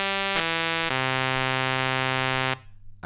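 A buzzy, harmonically rich pulse wave from a Roland JX-03 Boutique synthesizer holds steady for about two and a half seconds, shifting pitch slightly early on, then cuts off abruptly.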